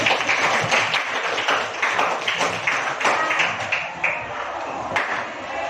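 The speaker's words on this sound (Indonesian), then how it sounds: "beri tepuk tangan yang meriah kepada Dinar" A school class applauds a student, many hands clapping together in a quick, steady patter that continues for several seconds before fading slightly, close and lively.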